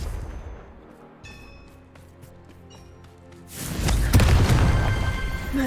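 A Confringo fire spell erupts in Hogwarts Legacy: after a few seconds of low ambience with faint clicks, a sudden loud booming blast rolls out and lingers.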